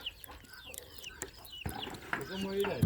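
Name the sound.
chickens clucking on a chicken farm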